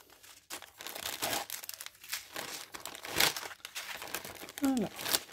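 Small plastic zip bag holding diamond painting diamonds, crinkled and handled near the microphone in bursts of crackling rustle, with a few brief voice sounds mixed in.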